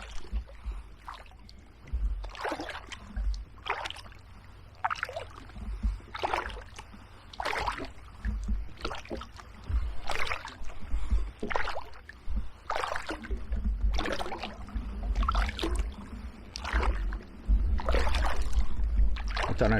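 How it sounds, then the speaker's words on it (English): Repeated scraping and rustling bursts of river weed against a boat hull on the River Stour in Suffolk, coming in irregular strokes over a low steady background rumble. "the weed is all scraping along the bottom of the boat"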